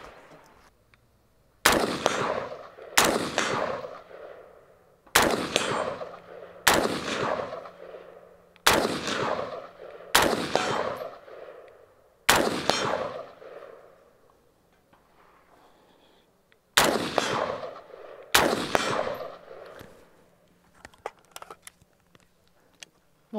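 Nine sharp gunshots from a full-metal civilian Grot A3 rifle at a shooting range, fired singly at irregular intervals of one to three seconds, each loud crack trailing into a short echoing decay, with no talking.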